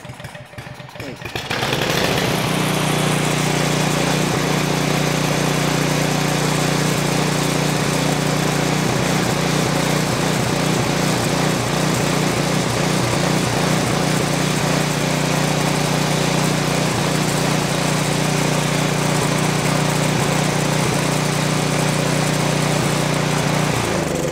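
A Craftsman snow blower engine is started with the choke on and keeps running, a loud, continuous throbbing small-engine drone that holds steady and rough to the end, with someone talking briefly at the start.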